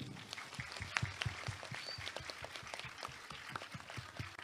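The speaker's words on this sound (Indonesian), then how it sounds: "Saya harap semuanya tepuk tangan untuk Nur Jadid." Faint clapping rises from the audience at an evening sholawat gathering praising the Prophet, a quick, fairly regular patter of hands heard at a distance, with no speech over it.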